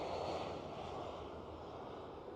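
A KLM Cityhopper Embraer E175 airliner gives off a faint, steady engine roar at a distance, an unbroken broadband drone with no talk over it.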